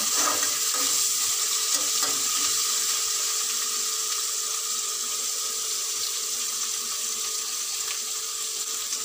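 Garlic paste fries in a pan with a continuous, close hissing sizzle that stays even and steady, alone without speech.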